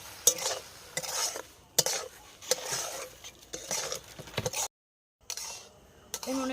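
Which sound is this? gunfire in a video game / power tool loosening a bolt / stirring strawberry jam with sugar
stirring strawberry jam with sugar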